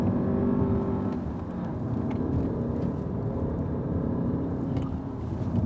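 An Audi TT coupé drives along with a steady low engine and road drone, plus faint whooshing and light ticks over the top, and no voices.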